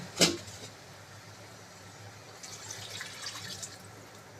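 Water pours into a pot of drumstick and chickpea-dal curry with a soft, steady splashing trickle after a brief clatter, faint and up close with no talking.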